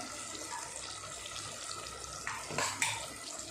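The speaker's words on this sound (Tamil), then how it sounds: "இப்போ நம்ம புளி தண்ணி ஊற்றிடலாம்" Faint background hum, then tamarind water is poured into a pan for fish curry in a short splashing burst near the end.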